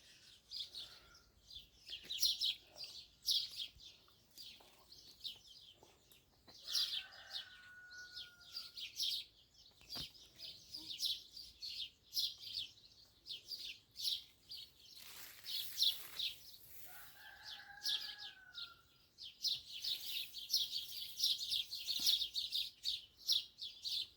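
Sparrows feeding on fallen mulberries in a vineyard garden chirp and twitter in quick, busy bursts throughout, fairly faint and at some distance, with a couple of clearer, longer calls standing out.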